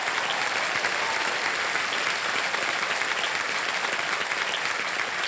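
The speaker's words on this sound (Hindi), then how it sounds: "तालियां बज जाए जया जी के लिए।" Studio audience applause on the KBC game show set, a steady, dense wash of many hands clapping at full volume throughout, with no voices over it.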